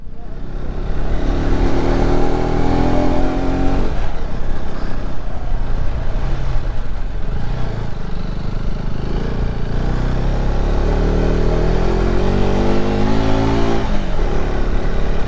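A motorbike engine runs steadily and loudly throughout, with a few rising revs, in the setting of a Tamang traditional wedding in Kavre.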